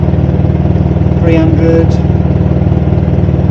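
A motorcycle engine idles loud and close with a steady, even pulsing throb and no revving, while someone briefly speaks over it.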